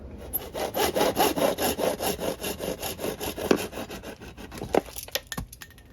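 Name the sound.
sawing to cut the fill valve tube down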